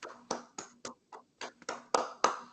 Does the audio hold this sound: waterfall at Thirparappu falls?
no